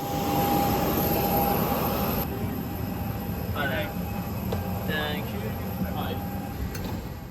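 Inside the cabin of a Jetstar Airbus A320ceo, a steady broadband roar of engine and airflow fills the space, loud and continuous, with a faint tonal hum and a few soft clicks and knocks over it.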